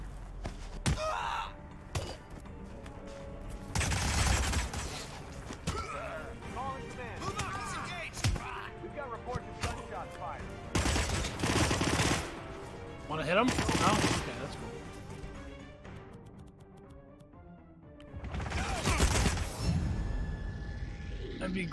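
Gunfire rings out in the Hitman video game in several separate loud bursts, each a few seconds long, with game dialogue and quieter stretches between them.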